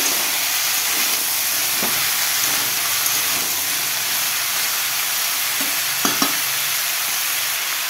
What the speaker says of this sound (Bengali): অল্প করে হলুদ আর পরিমাণ মতো নুন দিয়ে ভালো করে নাড়াচাড়া করে নেব।